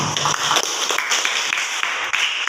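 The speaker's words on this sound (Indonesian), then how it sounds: "pintar semua tepuk tangan" Students in a classroom give a brief round of hand clapping, a dense patter of claps heard close and continuous for a couple of seconds.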